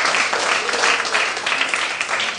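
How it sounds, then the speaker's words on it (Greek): An audience bursts into loud, dense applause at a live mind-games magic show, steady clapping filling the room without pause. "Ένα δυνατό χειροκρότημα στο Βαγγέλη"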